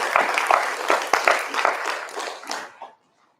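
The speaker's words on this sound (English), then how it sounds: "Let's have a round of applause." A spelling bee audience gives a round of applause, with dense, close clapping from many hands for about three seconds before it quickly dies away into silence.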